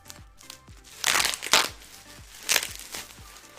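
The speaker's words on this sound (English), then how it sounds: "I got my scissors, so I'm about to cut it open real quick." Scissors cut into plastic packaging, giving a few loud crinkling, crunching bursts between soft clicks and snips. The sounds are close and come in short spurts with pauses.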